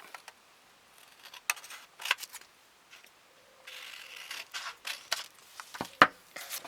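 Scissors cut small pieces of paper for a handmade scrapbook card, giving a run of crisp, close snips and rustles with uneven pauses and one sharper snip near the end.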